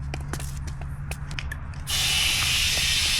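Broadband hissing of a spray bottle spraying soapy water on a leaking tire on a bent aluminum beadlock wheel, first in short bursts, then a loud continuous spray close by.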